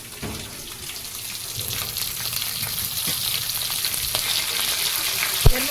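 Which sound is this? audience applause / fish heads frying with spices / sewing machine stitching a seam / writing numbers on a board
fish heads frying with spices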